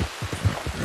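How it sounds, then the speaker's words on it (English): Steady rain falls in the video game Red Dead Redemption 2 as a soft, continuous hiss and patter with faint low thumps underneath, heard without any talking. "How much longer is it going to rain?"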